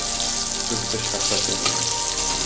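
Hilsa fish, coated with turmeric, frying lightly in a pan, giving a steady broadband sizzle and crackle with faint bubbling, close and continuous with no voices.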